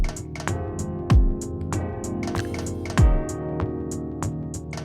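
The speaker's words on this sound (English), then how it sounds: "So what you're hearing right now is just what this chord sequencer automatically does for you." A chord sequencer plays an automatic synth chord progression with sustained harmonic pads, plucky note attacks and deep bass drops that land on a regular rhythm.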